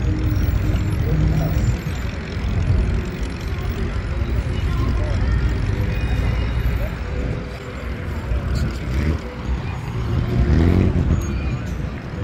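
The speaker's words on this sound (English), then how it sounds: "We've got the freeway right here going under this bridge." Freeway traffic passing below a bridge in Boyle Heights, East LA, producing a continuous broad roar of vehicles that rises and falls, with a louder swell near the end, under crowd chatter.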